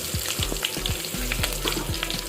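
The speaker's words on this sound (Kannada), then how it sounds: "ಸಾಸಿವೆ ಚಟಪಟ ಆದಮೇಲೆ ಜಜ್ಜಿರೋ ಬೆಳ್ಳುಳ್ಳಿ ಹಾಕ್ತಾಯಿದ್ದೀನಿ" Crushed garlic fries in hot oil where mustard seeds crackle and splutter, giving a steady close sizzle broken by frequent sharp pops, with no voices.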